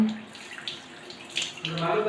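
Used tea leaves being washed under a running kitchen tap, water splashing and gurgling unevenly with a few louder bursts, close by and moderately quiet.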